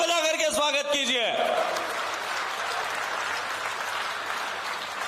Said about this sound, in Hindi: जोरदार तालियां बजा करके स्वागत कीजिए।